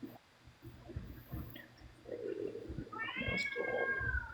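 A cat yelling with a drawn-out, rising meow in the last second and a half, preceded by softer rumbling vocal sounds, fairly close against a quiet room.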